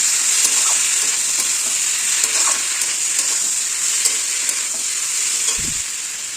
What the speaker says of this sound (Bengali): এটাকে ভালো করে কষাবো।